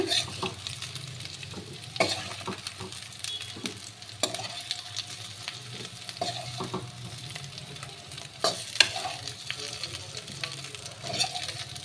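Oil sizzles steadily in a pan as cauliflower fries, with occasional scraping and stirring clicks from a utensil, close up.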